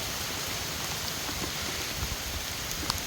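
Steady rain falling, a dense even hiss of drops on surfaces with occasional nearer splats, continuous throughout.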